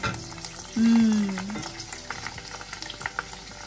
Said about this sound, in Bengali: ফুচকা ভাজি চলতেছে।